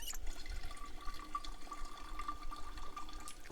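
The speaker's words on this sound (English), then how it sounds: "we are going to fill this empty bottle" Water pouring to fill an empty bottle in the survival game Project Zomboid, a soft continuous trickling splash over a low background hum.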